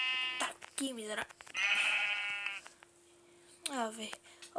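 Several sheep bleats from Minecraft, harmonic and wavering, arriving in separate bursts over a steady electronic hum, with a person talking between them.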